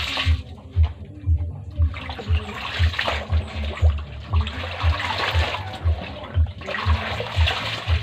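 Laundry being washed by hand, with water sloshing and splashing in a regular rhythmic beat, roughly one stroke per half second, close and continuous.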